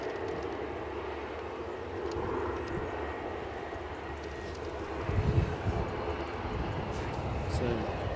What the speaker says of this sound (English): Cessna 560 XL Citation XLS